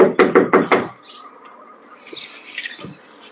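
Four quick, loud knocks on a house door, evenly spaced, followed by quiet indoor background with faint rustling.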